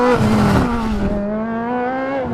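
The University of Minnesota Formula Team's 2014 low-slung race car drives past up close, its engine loud and high-revving with a rising and falling pitch, and faint tire noise underneath.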